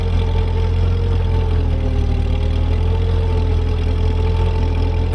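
A Ford 8N tractor engine runs steadily while clearing snow, a loud, continuous low idle-like rumble with a faint knocking pulse and no talk over it.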